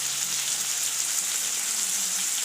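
Brinjal, potato and broad beans sizzle in hot oil in a pan, a steady, close crackling hiss like rain that stays level throughout with no voices.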